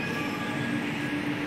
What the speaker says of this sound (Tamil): இந்த ட்ரெயின் தான் இங்கேருந்து சென்னை சென்ட்ரல் போகிற மெட்ரோ.